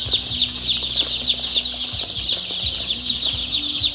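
A crowd of three-day-old chicks peeps constantly, high, dense and close, with soft rustling below and no talk.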